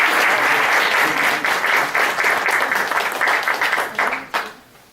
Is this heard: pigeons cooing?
no